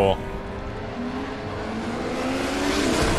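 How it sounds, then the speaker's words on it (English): A motorcycle engine in the video game Final Fantasy 7 Remake revs and builds steadily in pitch and loudness over a few seconds, with voices talking over it. "Is that a motorcycle I hear?"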